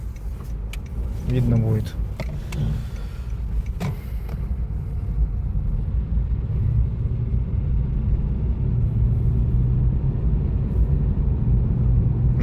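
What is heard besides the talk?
Honda Fit GP5 car driving and accelerating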